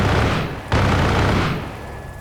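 Helicopter strafing run in the video game Arma Reforger: a dense roaring burst of minigun fire with a sharp break midway, then a second sustained burst that tails off, loud and close.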